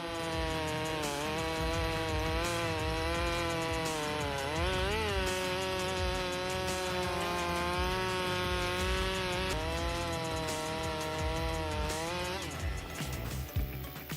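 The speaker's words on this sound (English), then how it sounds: "Style's MIS 4 162 Arctic, which uses a formidable 28-inch hard maple blade to deliver the ultimate wood chopping experience" Stihl MS 462 chainsaw cutting hard maple in a forest, its engine droning loud and steady with a rising and falling pitch as the chain bites into the wood, ending in a brief rev change.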